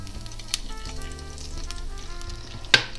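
Chicken gizzards sizzle steadily in a pan as oil and a little butter go in, a continuous crackling hiss with a sharper pop near the end.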